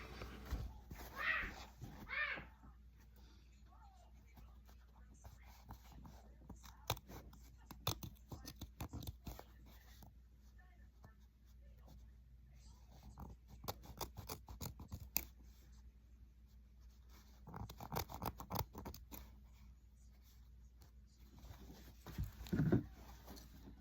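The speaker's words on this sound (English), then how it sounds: "I'm just going to take my scissors and just make those slits a little bit bigger" Scissors snip through layers of fabric in scattered bursts of short crunchy cuts, close and quiet, with pauses between clusters.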